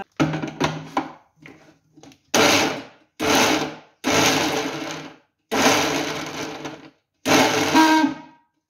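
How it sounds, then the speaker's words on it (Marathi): A kitchen mixer grinder whirs in loud bursts of about a second each, pulsed on and off repeatedly with short silences between, grinding chana dal chutney ingredients; no voices during the runs. "आता हे सगळं मी मिक्सरमधून असं फिरून घेते"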